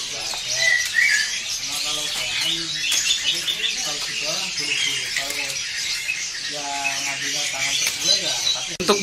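A caged oriental magpie-robin at a bird kiosk sings in varied, rapid chirps and whistled phrases, close and clear, mixed with other bird calls, while people talk over it.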